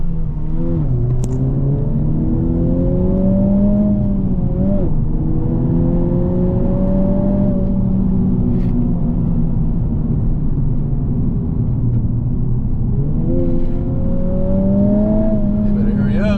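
Revving engine of a Honda Civic Type R climbing in pitch through gears, with clear drops at each shift around four and thirteen seconds, loud and steady from inside the cabin, with voices talking over it.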